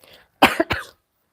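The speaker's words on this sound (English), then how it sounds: "I'm going to cough a second." A few short, sharp coughs in quick succession after a brief faint sound, then silence.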